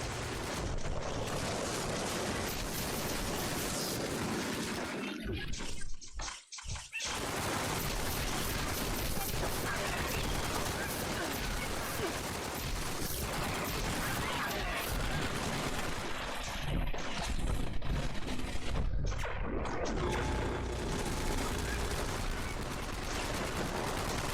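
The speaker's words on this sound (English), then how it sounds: "these aliens be shooting me in the back" Aliens open fire in Fallout 76, a dense, continuous barrage of gunfire and blasts that roars on almost without pause, dropping out only briefly, with a voice occasionally over the din.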